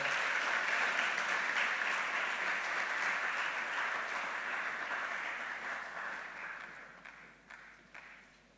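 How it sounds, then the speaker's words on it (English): At the opening ceremony of a climate change and green economy week, an audience gives a sustained round of applause that slowly fades out. "Shall we please welcome him with a round of applause?"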